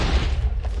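TNT blasts in the video game Minecraft during an end-of-game rain of explosives, heard as a dense, loud low boom that rolls continuously for under a second.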